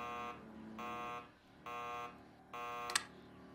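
A computer alarm in the space-survival game Tin Can beeps in long, steady tones that repeat in an even on-off pattern, with a short sharp click near the end and no talking.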